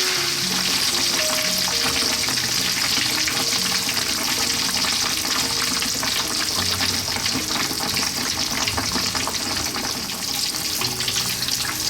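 Pork belly deep-frying in a pan of hot oil for Filipino lechon kawali, a loud, dense, continuous crackling bubble that holds steady and close throughout, with no talk.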